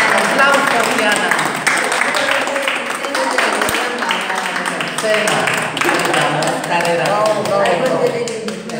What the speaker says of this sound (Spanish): Un aplauso para Yair